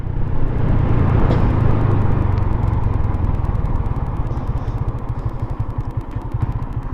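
Yamaha Sniper 150 motorcycle with a 13-42 chain set and 130/70/17 rear tire, its engine running loud and close in a steady, throbbing drone that pulses faster and rougher toward the end, with no voices.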